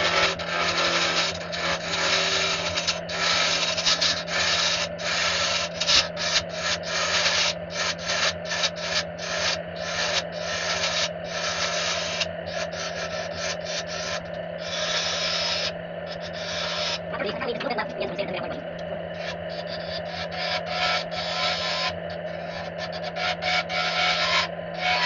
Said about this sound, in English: Time to sand, you always start with your lower numbers first and graduate to your higher numbers.